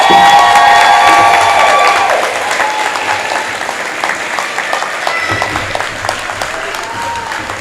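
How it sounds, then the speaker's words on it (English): Another round of applause and cheering for fifth grade students at a school promotion ceremony, loud crowd clapping with whoops and children's shouts, fading slightly but continuing throughout. "Can we give our fifth grade students another round of applause?"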